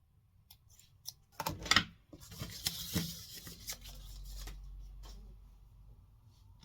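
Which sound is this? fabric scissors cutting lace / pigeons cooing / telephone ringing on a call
fabric scissors cutting lace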